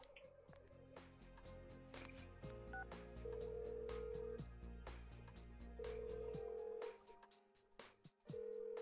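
Phone call in Persona 4 Golden ringing out unanswered, a repeating electronic ring tone pattern over steady game background music, fairly loud and alone without talk.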